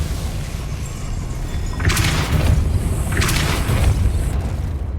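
In the Hogwarts Legacy video game, the Depulso spell fires as two loud, bright whooshing bursts with booming low rumble beneath, a second apart, over a steady game soundscape.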